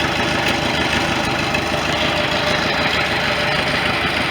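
The engine of a 1973 International loader tractor idles steadily and loudly close by, a continuous rumbling drone with slight knocking and vibration and no pauses.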